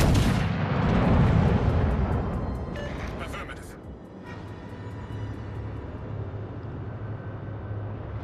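An artillery fire-support barrage in the naval game World of Warships: Legends opens with a loud, close, rumbling boom that slowly fades into a lingering low roar, with a voice speaking over the tail.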